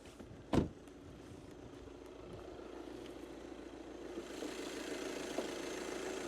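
A 2011 Volkswagen Passat B7 4Motion with a 2.0 diesel engine idles steadily after a sharp click near the start, a smooth continuous hum at moderate level with no voices.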